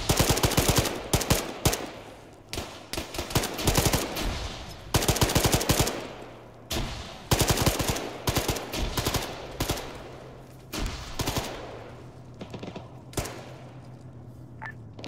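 PTR gunfire in Arma 3 Antistasi sounds as repeated sharp bursts and single shots, loud and close at first, then thinning into scattered cracks and fading echoes over about fifteen seconds.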